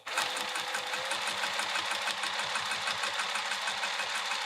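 A sewing machine stitches a bag with piping in a fast, even rapid-fire mechanical rattle, close and loud, running continuously with no talk over it.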